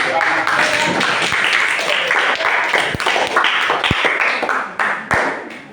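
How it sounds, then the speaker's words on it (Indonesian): A classroom group claps together in steady, dense applause, loud and close, with a few sharp knocks near the end as it tapers off. "Tepuk tangan."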